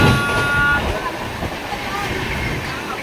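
Kulik Express passenger train from Bardhaman toward Bandel, running steadily at speed: a constant loud rumble and rattle of wheels and carriage throughout, with a brief high tonal whine at the start and a murmur of voices in the background.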